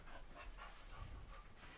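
A dog pants steadily after a walk, quick rhythmic breathy huffs, faint and close, over a noisy indoor background with no talking.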